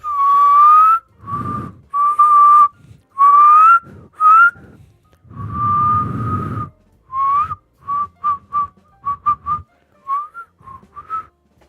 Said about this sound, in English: I'm trying to see how loud I can whistle.